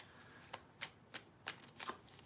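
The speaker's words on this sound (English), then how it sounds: "Right, I think this is telling me you've shuffled them enough." A tarot card deck being shuffled by hand, heard as a string of quick, crisp riffling bursts at irregular intervals, close and fairly quiet with no talking.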